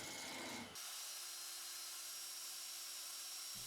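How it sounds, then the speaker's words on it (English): A steady, hissing cutting sound runs continuously as a negative rake skew chisel shaves driftwood on a spinning lathe, fairly quiet and even throughout. "using my negative rake skew chisel to remove all the tool marks"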